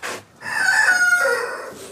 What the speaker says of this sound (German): Und etlichen Hühnern, Hähnen und Küken.